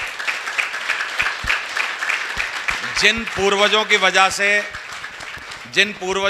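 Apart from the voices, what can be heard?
audience applause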